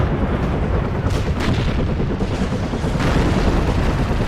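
Artillery and gunfire rumble through a WARNO battle, a dense, continuous roar of low booms and shots with a few brighter blasts standing out, loud and sustained with no voices.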